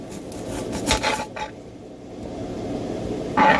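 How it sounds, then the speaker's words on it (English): A large kitchen knife trims the ends off food in a home kitchen, making a few short, close scraping cuts separated by quiet pauses. "And I'm just gonna cut the ends off."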